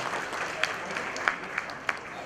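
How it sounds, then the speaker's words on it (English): Audience applause at the NASSCOM GCC Conclave 2018, a corporate tech conference: steady, sustained clapping from a crowd, with a few sharper individual claps standing out. "A big round of applause, ladies and gentlemen"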